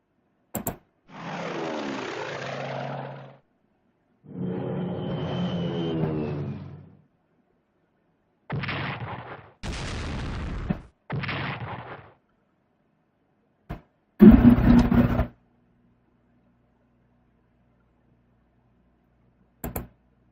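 Bombing and artillery fire in the Strategic Command WWII: World at War strategy game: a series of separate bursts of battle effects, each lasting one to two seconds, with short pauses between them and a long quiet stretch near the end.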